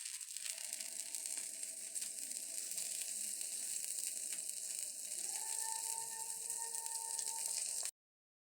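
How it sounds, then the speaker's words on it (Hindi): Potato sandwiches sizzle steadily in a hot pan with oil, a close, continuous frying hiss with faint crackles that cuts off abruptly near the end. "माशाल्लाह सैंडविच हमने फ्राई कर लिए हैं"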